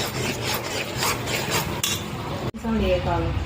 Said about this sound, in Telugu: కాసేపు కలుపుకోవాలి.